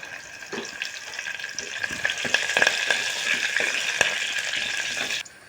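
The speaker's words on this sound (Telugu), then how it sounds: "ఉల్లిపాయలు కొంచెం వేగిన తర్వాత కరివేపాకు వేస్తున్నామండి" Curry leaves hit a pan of frying onions for a drumstick curry, raising a lively, close sizzle with crackling bursts and a few clinks of stirring over a steady hiss.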